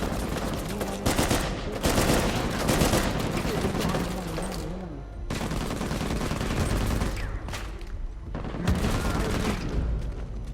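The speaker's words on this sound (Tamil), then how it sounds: "பார்த்தீங்களா, அங்கேருந்து அடிச்சிட்டு இருக்கான் ஸ்னைப்பர்" Sniper fire and other gunshots from the Uncharted: Legacy of Thieves video game on PS5, rendered as loud, dense bursts of shots separated by brief lulls, with a busy battle mix underneath.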